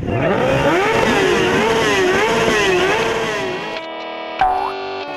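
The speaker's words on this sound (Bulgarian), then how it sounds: "Мишо, виж какъв мотор има това." A powerful motorcycle engine at a wedding revs with wavering, rising and falling pitch for several seconds, then cuts off abruptly, leaving a faint tone and a brief squeal.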